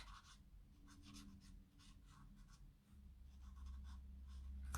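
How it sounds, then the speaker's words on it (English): A blender pen tip rubs on paper with a soft, steady scratchy sound in repeated short strokes, close and quiet, over a low background hum. "add a little bit of, you know, texture with your blender pens"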